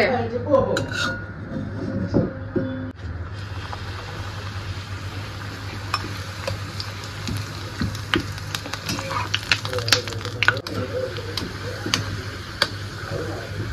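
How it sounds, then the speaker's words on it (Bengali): A metal spoon and spatula clink and scrape in a pan as papad fries over a steady low hiss, with a brief louder clatter at the start and scattered sharp taps throughout. "একটা হাতে চামচ আর একটা হাতে খুন্তি নিলে পরে এক তো সুবিধা হয়"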